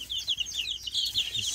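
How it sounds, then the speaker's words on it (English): Icelandic chickens cluck and chirp in a quick, busy run of short bright calls close to the microphone, fairly quiet overall. "These are Icelandic chickens."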